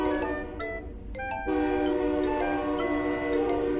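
A video game train horn sounds loud and close, its sustained harmonic blast swelling and holding steadily over the rumble of rolling rail cars, with brief clanks in between.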